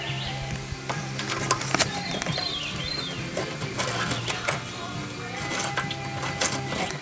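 A bolt with a lock washer and nut being turned on a ring terminal while fixing trailer lighting grounds on an Ice Castle fish house, giving close, irregular metallic ratcheting clicks and small scrapes.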